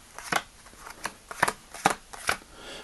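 A packet of playing cards being shuffled by hand, with four or five sharp riffling bursts spaced about half a second apart, close and fairly quiet, with no voices.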